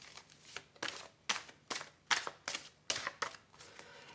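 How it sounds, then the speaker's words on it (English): Tarot cards shuffled by hand in a quiet room, a series of about nine crisp riffling bursts in an uneven rhythm, close and soft, with no talking. "It's asking me to continue shuffling, so that's what I will do until they tell me to stop."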